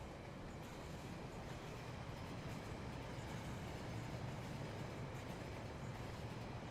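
A long little model train in the Rolling Line railway game runs down the line, giving an even, unbroken rumble of wheels on rails at low, steady loudness.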